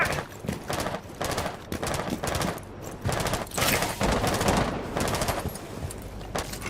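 Gunfire from the video game Rainbow Six Siege rattles in rapid bursts and repeated shots, loud and close, with dense irregular bangs throughout.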